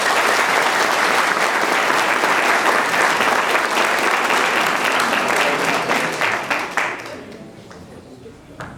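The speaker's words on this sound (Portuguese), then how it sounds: "Uma salva de palmas," A church congregation breaks into loud, sustained applause, dense clapping filling the room before tapering off near the end.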